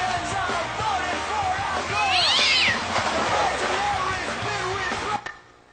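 A kitten meows repeatedly in high, thin, wavering cries, close and fairly loud over a busy background of crowd noise, with one louder, rising squeal in the middle.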